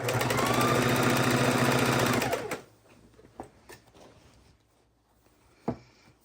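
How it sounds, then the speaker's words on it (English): A sewing machine runs steadily, stitching binding onto a Christmas quilt, a loud continuous mechanical whir for about two seconds, then stops, leaving faint handling clicks and a single sharp knock. "we're just gonna line up these two parts and sew it through"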